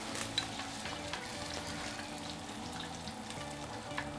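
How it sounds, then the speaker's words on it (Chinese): Fatty beef slices blanch in a pot of boiling water, giving a quiet, steady bubbling and simmering with a few faint clinks, no voices. "水开以后呢，我们把这个肥牛稍微给它焯焯水"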